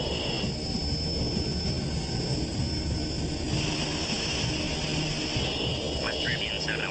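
A West Caribbean jet airliner sits on runway 21 left ready for takeoff, its engines producing a steady, fairly loud whine and rumble throughout, with a brief higher whine rising near the end and no speech.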